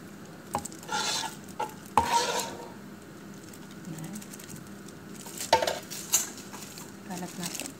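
Macaroni stirred through a thick cheesy béchamel sauce in a pan, with soft wet scrapes and occasional utensil clinks against the metal, close and fairly quiet.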